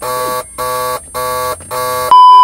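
A BMW Z3 warning chime sounding after the key is pulled, four evenly spaced harsh electronic beeps with short gaps, then a louder sustained pure tone, close and sharp.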